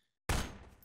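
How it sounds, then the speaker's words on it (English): Sudden burst of gunfire in Garry's Mod, a loud sharp onset after silence that rattles on as a dense fusillade and slowly decays. "Stop shooting my friend."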